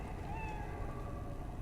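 A cat in the video game Lost Odyssey gives a faint, drawn-out meow with a slight pitch waver, set low against a steady background hum of game sound.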